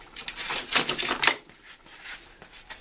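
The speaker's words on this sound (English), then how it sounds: "Edge strips cut simply with a standard utility knife." A standard utility knife scores and cuts an edge strip during a floor installation, giving a few sharp close scraping and clicking cuts in a quick burst, followed by quieter handling.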